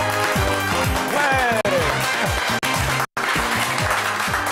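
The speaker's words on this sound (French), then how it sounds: "On les applaudit." A television talent show audience applauds contestants, a steady broad wash of clapping under loud rhythmic music, with a brief voice and a few sudden dropouts partway through.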